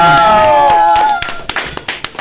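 A few hands clapping at an Indonesian evening talk show event, scattered sharp claps following a loud musical tone that fades out, fairly close.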